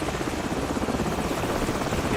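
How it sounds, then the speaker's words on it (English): Helicopter flying overhead in Call of Duty Modern Warfare, a loud continuous rotor thump and engine drone held steady throughout. "Hold on, the helicopter's back."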